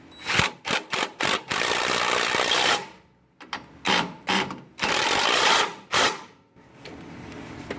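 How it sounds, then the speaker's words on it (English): Power tool snugging the middle crossmember-to-transmission bolts on a Ford Super Duty V10 4x4 with a 4R100 transmission, several short bursts followed by two longer runs, close and loud with clear gaps between them. "Now we can snug up our middle cross-member to transmission bolts."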